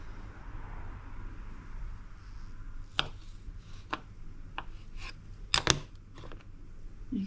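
Wood hedgehog mushrooms, firm and chunky, sliced with a knife: a few sharp crisp cuts and snaps scattered over several seconds, close up against a quiet low hum.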